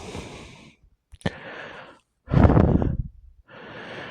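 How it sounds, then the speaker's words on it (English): Heavy, labored human breathing, each breath coming in ragged bursts of rasping inhales and exhales with short pauses between, close and fairly loud with no talking. "You can hear that my breathing is labored"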